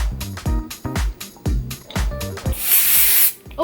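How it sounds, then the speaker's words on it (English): Hair spray hisses from a can onto a glueless closure wig hairline in one sustained burst, close and loud, after a run of short rubbing and handling sounds. "We're gonna spray that hairline."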